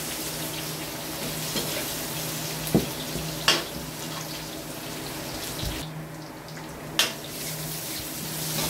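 Garlic and onion sautéing in hot oil in a pan for pork menudo, a steady close sizzle with a few clinks and knocks of a utensil against the pan.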